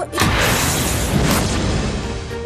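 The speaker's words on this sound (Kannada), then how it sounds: "ಪಟಾಕಿ ಸಿಡಿಸಿ ಸಂಭ್ರಮಿಸಿದ್ರು" A loud burst of crackling bangs erupts almost at once, a dense rattling crash that holds for a couple of seconds before thinning slightly.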